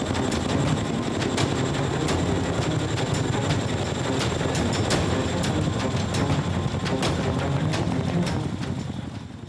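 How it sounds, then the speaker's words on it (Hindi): A Chinook military helicopter in flight, a steady loud rotor drone with a dense low rumble that holds evenly throughout, with no speech. "आपकी टीवी स्क्रीन पर दिख रहे इस हेलीकॉप्टर का नाम चिनूक है"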